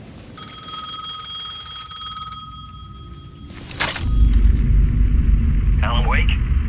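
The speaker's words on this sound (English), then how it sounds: "The payphone was ringing again." A payphone rings with a steady, metallic bell tone for several seconds in the dark, ambient world of Alan Wake 2, then stops, giving way to a low rumbling swell and a brief vocal sound.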